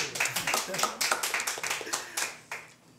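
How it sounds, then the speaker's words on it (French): A studio audience at a French television debate applauds, with dense hand clapping sustained throughout before tapering off slightly toward the end. "Vous pouvez acclamer."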